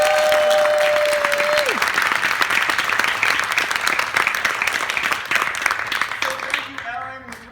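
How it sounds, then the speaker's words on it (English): An audience gives a long, dense round of applause that holds steady for several seconds, then thins out toward the end as a voice starts to come through. "And give them one round of applause."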